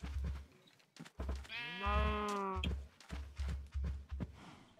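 A Minecraft sheep gives one long, wavering bleat amid a run of soft, repeated thumps and game movement sounds, fairly close and moderately loud.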